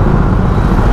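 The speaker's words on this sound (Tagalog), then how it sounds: "Ngayon ko lang na-experience na ganito ka-traffic dito" Dense road traffic rumbles loud and close around a Yamaha Nmax 155 scooter, a thick, steady drone of engines and tires with no pause over one second.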